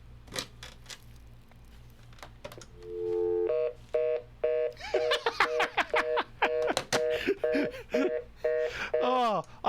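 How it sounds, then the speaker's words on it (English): A landline telephone connected to a computer gives a low hum, then a steady dial tone, followed by a rapid string of short keypad beeps with brief gaps, while a person laughs and reacts in between. "There's a dial tone now."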